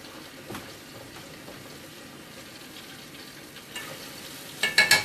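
Pork chop frying in a boiler, a steady soft sizzle and crackle throughout, with a few louder spits and scrapes near the end as the meat is turned.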